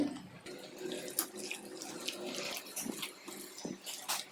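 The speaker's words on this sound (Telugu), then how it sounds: "ఈ బాండీతో సగం వరకు నీళ్లు పెట్టుకుంటున్నాను స్టవ్ మీద" Water runs from a tap into a cooking pan meant for rice, a steady, fairly quiet splashing stream close by with faint clinks and no speech.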